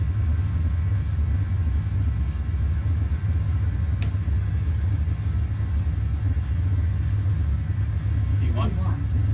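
Aircraft engines at set thrust during the takeoff roll give a loud, steady, low rumble that fills the cockpit for the whole stretch, with a couple of faint clicks and a brief sound near the end.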